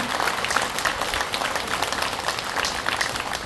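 A seated audience applauds at a Buddhist dharma lecture in a temple hall, a sustained, fairly loud roar of many hands clapping with brief individual claps standing out across the whole stretch.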